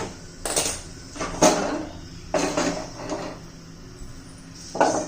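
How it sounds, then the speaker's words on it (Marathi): A pressure cooker is shifted aside on a stovetop while a mutton rassa masala of coconut, onion, poppy seeds and roasted chana is being prepared. Several close metallic clanks and scrapes come in separate bursts, with no talking. "कुकर आता दुसऱ्या बाजूला ठेवते"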